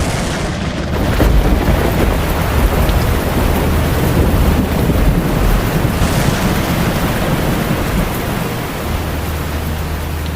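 Dense, steady roar of heavy rain with low thunder rumbling beneath it during a village storm, loud and continuous throughout.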